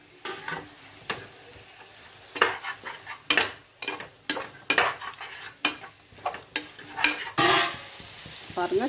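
Chicken sizzles in Chettinad masala in a pan as a utensil stirs it, with repeated scraping strokes and metallic clinks over a soft frying hiss, close and uneven.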